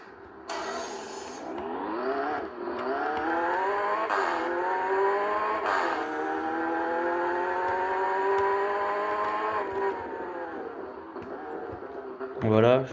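Roblox car engine from the Fix It Up game, an Audi, droning steadily with a rising, harmonic whine for about ten seconds, loud and close, a few clicks and a bump near the end, a voice barely audible underneath.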